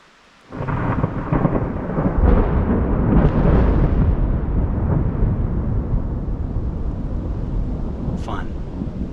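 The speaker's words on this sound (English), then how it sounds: "That crack from that lightning was unbelievably loud." Thunder from a lightning strike rolls in suddenly after near silence, a loud deep rumble that swells and slowly fades across several seconds, with rain and wind buffeting the microphone outdoors.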